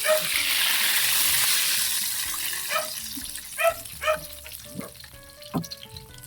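Squid and bean sprouts fry in a pan with a steady broadband sizzle, while several sharper pops and clinks of utensil stirring come through loud and close toward the end.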